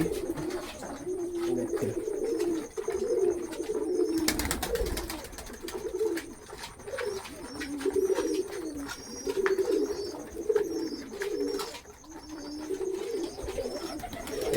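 Loft King pigeons cooing steadily in their loft, layered, overlapping coos rolling on without pause, with a single brief spoken word.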